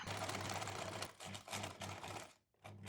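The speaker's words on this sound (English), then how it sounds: "I'm pinning the seam again and sewing the 4 centimeters" A sewing machine stitching a fabric seam for a scrunchie, a fast mechanical whirr in several short bursts with brief pauses between them, near and fairly quiet, with no voices.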